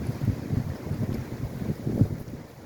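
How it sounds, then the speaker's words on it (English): Strong, unseasonably warm December wind gusts in Kansas City buffet the microphone in uneven, rumbling bursts, loud and close with no talking. "Very strong wind gusts."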